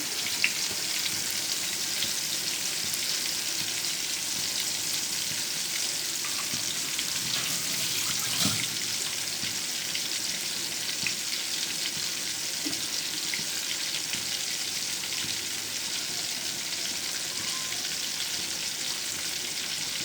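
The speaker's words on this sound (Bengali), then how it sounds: "এই তো দেখুন বন্ধুরা খুব সুন্দর করে ফিস ফ্রাই করে নিচ্ছি" Pieces of pangas fish fry in oil with a constant, even hiss of sizzling that holds steady throughout, close by and alone.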